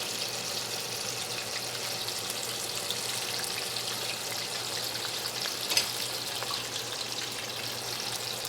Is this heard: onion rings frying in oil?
yes